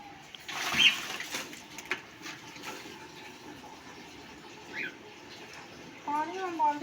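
Water running into a bucket at home, a soft steady gush with faint splashing and occasional clinks, fairly quiet throughout.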